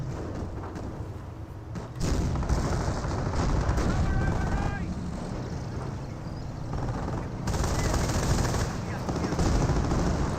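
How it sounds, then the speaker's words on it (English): Decoy artillery barrage in the Company of Heroes World War II strategy game, a dense, steady rumble of blasts and rattling fire building and sustained across the scene, with a commentator talking over it. "We got decoy barrage now coming on in."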